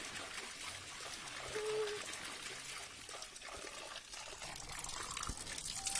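Water trickles and pours steadily from an outdoor water source, a continuous splashing wash with faint voices in the background.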